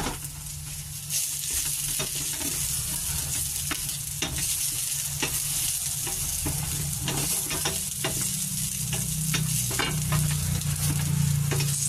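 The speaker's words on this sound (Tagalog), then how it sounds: "Pasusunod na po natin ang ating sibuyas." Chopped onion sautés in a pan, giving a steady, loud sizzle with frequent scraping and stirring strokes throughout.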